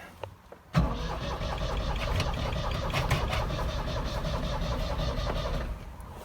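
A 1954 Panhard Dyna Z engine fires up after a quiet start, turning over abruptly and settling into a steady, rough running idle that continues close by to the end.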